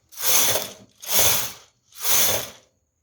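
A knitting machine carriage is pushed across the needle bed for lace knitting, making three loud ratcheting, whirring passes with brief pauses between them.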